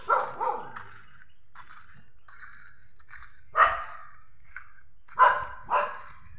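Several dogs bark in short bursts around a community area near a cafe in Auroville, with clustered barks at the start, a lone bark mid-way and two more sharp barks near the end, moderately close with quiet gaps between.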